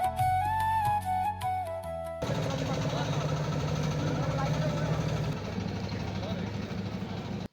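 A hilsa fishing boat carrying nets motors out toward the middle of a river, its engine chugging steadily after a brief burst of music, loud and close before easing slightly near the end.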